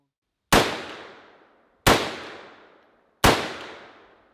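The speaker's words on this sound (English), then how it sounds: "So Brian got completely murdered by this gun" Three loud rifle shots from a gun fitted with a recoil buffer, evenly spaced about 1.4 seconds apart, each a sharp close crack with a decaying tail and silence between.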